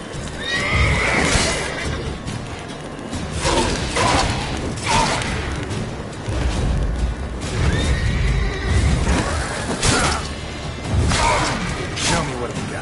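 A horse in the video game The Witcher 3: Wild Hunt whinnies repeatedly and loudly, with clip-clopping hooves and thumps between the neighs, while a voice speaks briefly.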